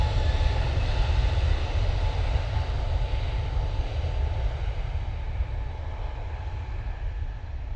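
An airliner takes off at Manchester Airport, heard as a continuous deep engine roar and rumble that holds steady and slowly eases off, with no talk over it.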